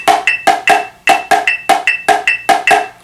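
Snare drum playing an etude against a metronome, a steady run of crisp, close strokes in an even pulse with occasional doubled hits, short and dry.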